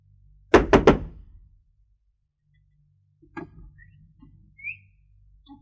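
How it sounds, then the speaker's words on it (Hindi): Three sharp knocks on a wooden door in quick succession, loud and close, followed by quieter indoor rustling and faint movement with no talking. "दरवाजा मेरा खटका है"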